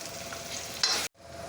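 Spice masala with salt, chilli and turmeric roasting in a pan, a soft continuous sizzle that swells briefly, cuts out for a moment, then resumes.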